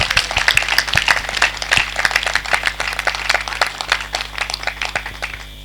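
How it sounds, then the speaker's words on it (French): A congregation at a Catholic charismatic renewal forum in Kouilou applauds loudly, a dense run of claps that stays strong throughout, with a steady low hum underneath. "On l'applaudit très fort."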